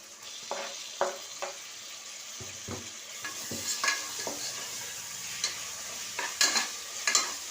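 Onions with ginger and garlic frying in a pan, a soft continuous sizzle broken by repeated scraping and tapping strokes from a spoon as they are stirred.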